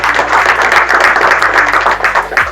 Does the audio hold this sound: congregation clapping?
yes